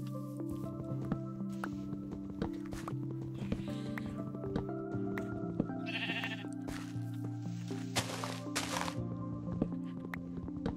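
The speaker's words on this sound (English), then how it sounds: "There are more sheep over there." Sheep in Minecraft give several short bleats over continuous game background music, with occasional clopping steps and soft clicks between them.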